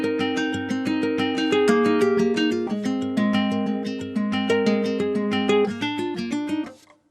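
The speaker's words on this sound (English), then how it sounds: "By adding these transition notes, it sounds a lot smoother and it enters the chord really nicely." A trap-style guitar loop plucks chords in a rolling triplet rhythm, with short passing notes gliding into each new chord; the playing is close, full and continuous with no voices.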